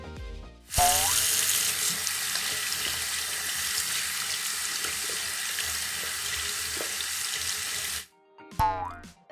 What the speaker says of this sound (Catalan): Ara escoltarem una aixeta oberta i com cau l'aigua.